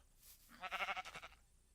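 A single sheep bleats in the video game Minecraft, one short wavering call, faint and close, with no talking over it.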